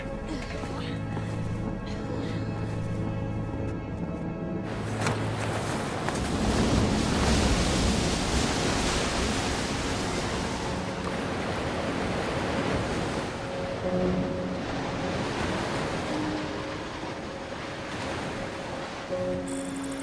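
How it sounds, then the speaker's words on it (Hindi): A calm sea rolls with broad surf washing in a Hindi-dubbed Hollywood sci-fi film, a steady wide rush of waves that swells and eases over the span, with faint wind beneath and no speech. "समंदर शांत हो गया है सर।"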